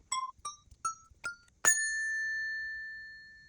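A small Montessori bell is tapped four times in a quick series of clear dings, then one louder strike rings out with a long, sustained shimmer that slowly fades.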